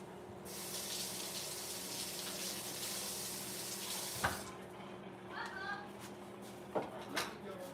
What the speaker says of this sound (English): Let me wash my knife off.